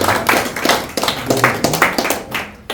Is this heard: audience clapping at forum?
yes